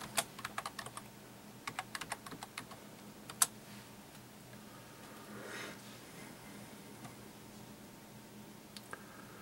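Rapid clicking of computer keys in bursts with short pauses, close and fairly quiet, as someone types a password and commands on a Windows 8.1 touch tablet running a Hyper-V virtual machine.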